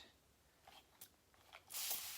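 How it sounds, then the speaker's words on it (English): A Master's Touch spray bottle releasing a short hissing burst of spray near the end, preceded by faint clicks of the trigger in quiet surroundings. "Okay, so it's a continuous spray, right?"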